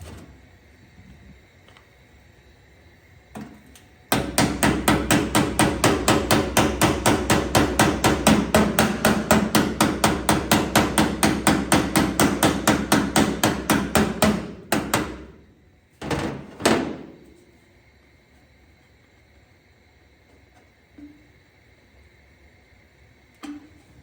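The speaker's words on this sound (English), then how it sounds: "Really like to hammer that tack, try to move this panel a little bit" Rapid, steady metallic hammer blows on a sheet metal fender panel ring out in a long run of dozens of strikes, followed by a few heavier separate knocks.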